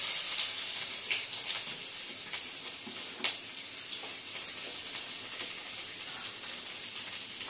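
Ingredients for tomato rice fry lightly in a pan, giving a constant bright sizzle with small pops and crackles scattered throughout, close and steady, no talking.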